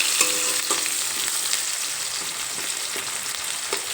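Chopped onion sizzles in hot oil in a pan while being stirred, giving a close, steady crackling hiss broken by scraping stirs.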